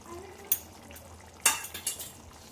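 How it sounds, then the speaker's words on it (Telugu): Jackfruit seed chicken curry with chicken masala being stirred in a pot: a spoon scrapes and clinks against the metal a few times over a soft background, with a couple of sharper knocks. "ఒక్కసారి కలుపుకుందాం."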